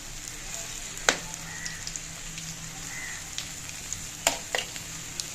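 Pumpkin pakoras fry in hot oil while being flipped, a steady soft sizzle with faint crackles and a few sharp pops and clicks of the utensil against the pan, heard close and without talk.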